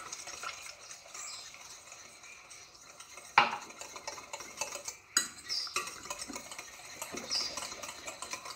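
Batter for individual basbousa cakes, made with semolina and oil, gets whisked in a bowl, a soft continuous stirring with utensil scrapes and a few sharper clinks against the dish, close and unaccompanied by speech.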